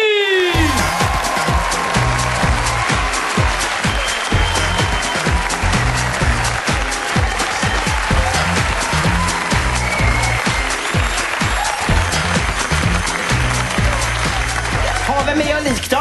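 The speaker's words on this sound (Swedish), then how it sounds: "En stor applåd för Ann Westin!" Studio audience at a Stockholm live stand-up comedy show gives loud, sustained applause with cheering for comedian Ann Westin, a dense wall of clapping lasting throughout, with a voice calling over it near the end.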